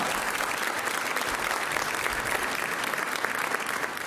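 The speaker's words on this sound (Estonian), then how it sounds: "teeme suure aplausi. Heino Niida!" A crowd at a festive school centenary concert applauds warmly and steadily, a dense, even wash of clapping that holds at full strength from start to finish.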